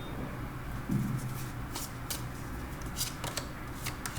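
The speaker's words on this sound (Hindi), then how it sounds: "7 days of the week के लिए हम निकालेंगे 7 tarot cards" Tarot cards are drawn and handled close by during a weekly reading, giving soft rustles, slides and light card snaps scattered over a quiet background.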